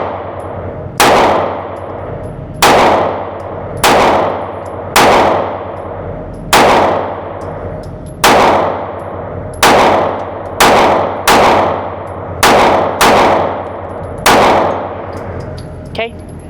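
Kimber CDS9 pistol fired at a range: eleven sharp, loud single shots, each with a short ringing decay, spaced about one to one and a half seconds apart.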